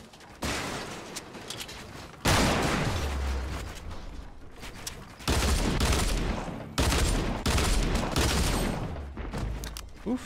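Dual pistols firing in the video game Fortnite, with rapid bursts of gunshots in several loud volleys separated by brief pauses, mixed with other game effects.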